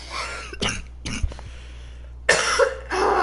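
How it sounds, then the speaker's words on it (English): Several harsh coughs in separate bursts, close to the microphone, with brief quiet gaps between them. "Yeah, I have a cough again."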